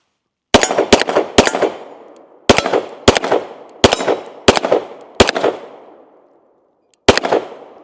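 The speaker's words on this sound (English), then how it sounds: "Let's go ahead and take our final shots with it today on the range." An Atlas Titan pistol fires on an outdoor range in sharp, loud, close-up shots: a quick group of three, a pause, then five more at an even pace, and one last shot after a short gap, each with a ringing decay.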